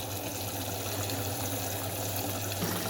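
Starchy water pouring off freshly cooked rice as it is drained in a home kitchen, a continuous close splashing stream that runs steadily for a few seconds with no talk.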